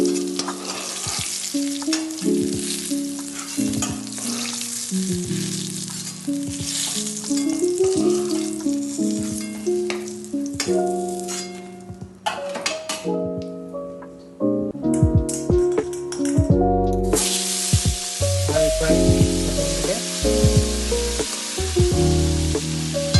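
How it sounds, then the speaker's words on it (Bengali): Pointed gourd (potol) fries in hot oil with a continuous sizzle and occasional stirring, partly under steady background music. "সেম প্রসেস চলবে, এটাও ভাজা হয়ে যাবে।"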